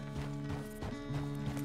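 A horse in Red Dead Redemption 2 walks along, its hooves clip-clopping in an even, steady rhythm close by, soft and unhurried with little else around.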